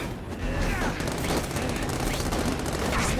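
Rapid automatic gunfire crackles continuously in The Amazing Spider-Man 2 video game, a dense loud burst with voices talking under it.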